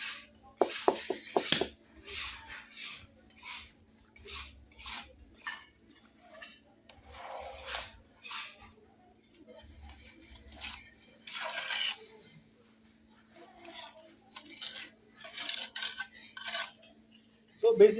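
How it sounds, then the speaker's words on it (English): A ceramic floor tile being set into mortar gives a series of light scraping and tapping knocks, irregular and close, with quiet gaps between the taps. "I gently press it as I place this one beneath and then do the tapping"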